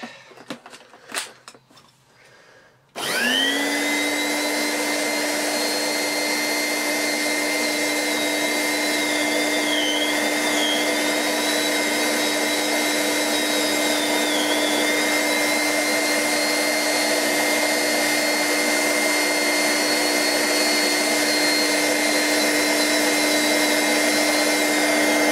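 Vorwerk vacuum cleaner with an ET340 powerhead switches on after a few seconds of handling noise, then holds a loud, steady, close whine and hum with a constant high tone until the end.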